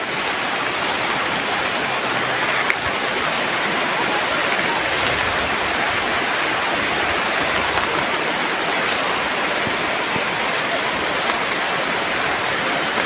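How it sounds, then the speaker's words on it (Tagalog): Heavy rain pours steadily and loudly for the whole stretch, a dense unbroken hiss with no voices over it. "Parang lakas na ng ulan."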